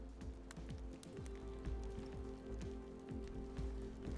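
Steady rain falling in the survival game DayZ, heard from inside a house at night with a fire going, a dense continuous patter with faint footstep-like thumps running underneath.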